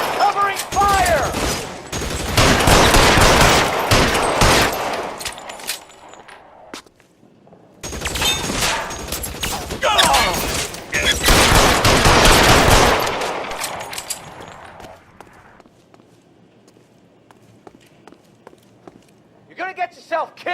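Shootout in L.A. Noire with heavy bursts of loud machine-gun and rifle fire in two long volleys separated by a short lull, mixed with footsteps and shouted voices, fading to quieter movement at the end.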